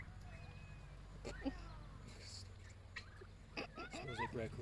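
Backyard chickens around their pen, soft clucks and gobble-like calls scattered through the moment, with a person talking nearby and low background hum.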